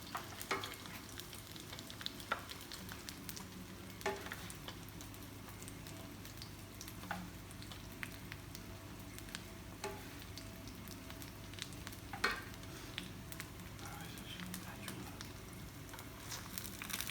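Egg whites sizzle and fry steadily in an oiled pan for Thai pork fried rice, with a continuous soft crackle and occasional scrapes and clicks of a large spoon stirring, close and moderately quiet, with no talking.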